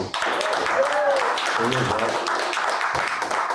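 Audience at an author's book signing at Power House Arena claps and cheers, a dense burst of applause with a voice talking over it partway through.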